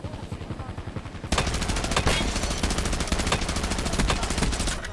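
Rapid automatic gunfire in a Call of Duty: Warzone battle royale match, a steady stream of close, loud shots that jumps in intensity partway through and continues without pause.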